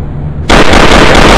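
A single loud, close gunshot goes off abruptly after a brief quiet moment, then a harsh, dense blast fills the rest of the clip.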